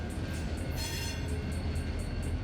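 CSX freight train rolling past on the historic W&A railroad, a steady continuous rumble of railcars with rhythmic wheel clatter, close and loud, no voices.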